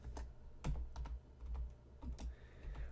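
Computer keyboard typing while entering a command for a Minecraft program: a steady run of close, crisp key clicks in irregular bursts, with no talking.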